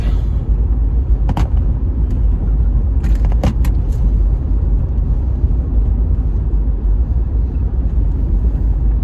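A car heard from inside, with a constant heavy low engine and road rumble throughout, broken by a few brief rattling clicks and knocks.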